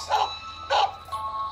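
Two sharp, high-pitched dog barks from the Poppy Prison Horror Escape video game, close and clear, followed by a softer third yelp, with no talking.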